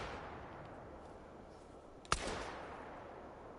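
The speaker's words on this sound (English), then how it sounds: "Let's get my shotgun out." A single shotgun blast loaded with birdshot in a video game, one sharp crack midway with a short decaying tail against a quiet background.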